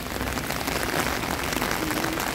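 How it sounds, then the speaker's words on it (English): Steady, dense rain pours on a wet day in Tokyo, a loud close hiss of drops hitting surfaces with no break and no talking. "It's a wet, rainy day today."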